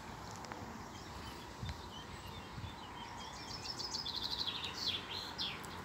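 A common blackbird sings in a series of quick, bright phrases over steady outdoor background noise, growing clearer toward the end.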